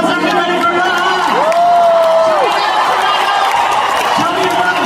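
A concert audience in Toronto cheers and applauds, a loud, dense crowd roar with a rising whoop-like voice cutting across it.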